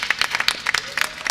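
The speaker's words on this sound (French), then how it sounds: "On peut l'applaudir." An audience applauds a student at an event, with a short burst of scattered, close handclaps of moderate loudness.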